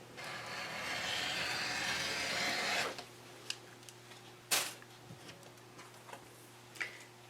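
A rotary cutter is run straight across quilting fabric along a ruler for an A5 journal cover, making a faint steady slicing hiss, followed by a few soft taps and clicks of handling.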